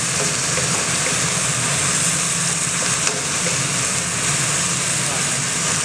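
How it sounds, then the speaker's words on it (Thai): Fish balls and Thai basil sizzle and hiss steadily in a hot pan during stir-frying, a loud continuous frying roar with faint scrapes of stirring. "ก็ผัดจนสลดนะครับ"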